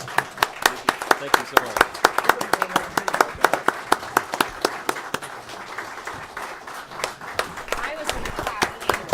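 Audience clapping at a town council meeting during a recognition award, a steady run of hand claps mixed with speech from a nearby speaker.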